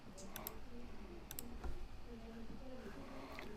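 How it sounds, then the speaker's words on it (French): Shift and Tab are pressed on a computer keyboard, giving a few soft, sparse key clicks against a steady low background hum. "La touche majuscule enfoncée, vous la gardez enfoncée et brièvement vous enfoncez la touche tabulation."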